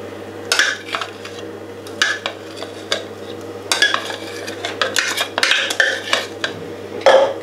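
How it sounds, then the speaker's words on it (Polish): Home-cooked tortellini tossed with homemade pesto in a bowl, a spoon scraping and clinking against the dish in uneven bursts of close, sharp stirring taps, with no voices. "trzeba wymieszać, żeby wszystkie pierożki były zamoczone"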